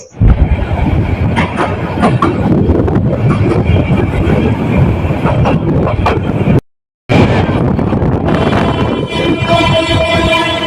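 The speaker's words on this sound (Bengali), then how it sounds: "এই প্রথম আমি রেলে করে বাড়ি যাচ্ছি।" Train ride on a Bangladeshi rail line heading out of the city toward a village, with loud continuous rumble of carriages and wheels clattering on track, a brief dropout midway, then steady rolling noise with a faint high whine.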